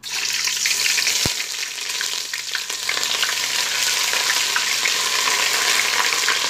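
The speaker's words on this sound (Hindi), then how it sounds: "तेल हमारा गर्म हो चुका। अब इसमें अदरक, दालचीनी और बड़ी इलायची डाल देंगे।" Ginger, cinnamon and black cardamom fry in hot oil with a steady, bright, close sizzle, with an occasional stir and a single sharp clink near the start.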